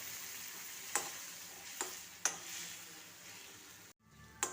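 Date pickle with jaggery, salt and vinegar stirred in a hot pan, with a soft continuous sizzle and three or four sharp spoon scrapes against the pan, then a brief silence before the stirring resumes.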